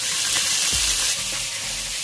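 Curry leaves fry in hot oil for squid roast and are stirred around the pan: a loud, continuous sizzle with a few scraping stirs, close up and with no voices.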